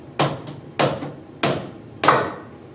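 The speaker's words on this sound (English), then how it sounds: "Go ahead and strike a few times with the hammer." Four sharp hammer blows strike a chuck key on a toolroom lathe to loosen the chuck, evenly spaced and ringing loudly up close, with no talking.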